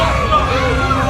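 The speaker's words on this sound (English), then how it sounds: "feeding off the energy of the crowd is the boos that the crowd is giving to Cam" Wrestling crowd at an outdoor bike fest show in Leesburg booing wrestler Cam Stewart, a steady loud babble of many voices with a low sustained jeering tone throughout.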